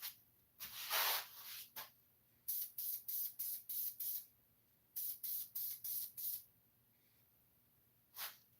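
Aerosol spray paint is applied in coats: one long hiss, then two runs of short rhythmic bursts and a final puff, close and alone.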